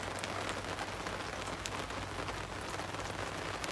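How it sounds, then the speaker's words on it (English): Steady rain falls on an overcast, cloudy morning, a soft, even patter of drops hitting surfaces with faint scattered ticks, quiet and constant throughout with no voices. "rain"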